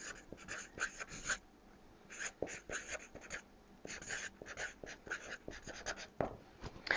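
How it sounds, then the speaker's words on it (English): A marker squeaks and scratches across a classroom board in quick, irregular bursts of short strokes with brief pauses between, close and clear, with no talking. "while I'm writing this"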